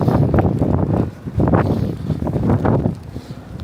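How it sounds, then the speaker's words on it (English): Gusty wind during a New York City blizzard buffets the microphone in broad low rumbling surges, swelling and easing several times in a steady outdoor roar. "No, it's windy"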